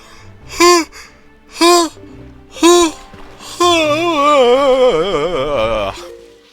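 In The Legend of Zelda: The Wind Waker, three short rising vocal sighs are followed by a long, wavering, drawn-out yawn-like moan, loud and close, with no talking.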